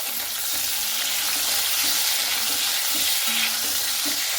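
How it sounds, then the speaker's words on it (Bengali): Washed potatoes frying in a pan until browned, a loud, dense, continuous sizzle close up, with faint periodic stirring scrapes underneath and no talking. "এরপরে ধুয়ে রাখা আলুগুলো প্রথমে আমি ভেজে নেব। তো আলুগুলোকে লাল লাল করে ভেজে নিতে হবে।"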